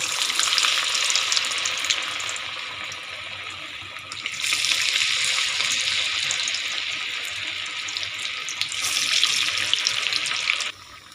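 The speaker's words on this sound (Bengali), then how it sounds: "আমি আগে থেকে কড়াইতে তেল গরম বসিয়েছি। আমি পাকোড়াগুলো একে একে দিয়ে দেব।" Cabbage pakoras fry in hot oil in a wok with a bright, steady sizzle that jumps louder partway through and stays busy, with no voices.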